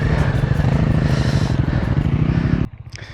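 KTM adventure motorcycle engine revving hard while climbing a hill, a loud, close, pulsing engine note with rapid firing that holds steady and then drops off abruptly near the end.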